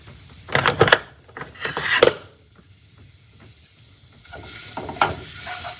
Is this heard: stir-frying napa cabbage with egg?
yes